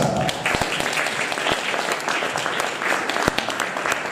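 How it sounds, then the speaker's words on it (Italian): An audience claps steadily to welcome a performer at a 2015 poetry book presentation in Buseto Palizzolo, a dense, sustained round of applause with a few sharper individual claps standing out. "Quindi l'accogliamo con un applauso"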